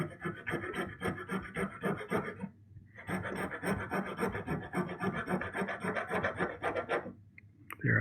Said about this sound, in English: So what I think I'll do is saw this down a little bit further.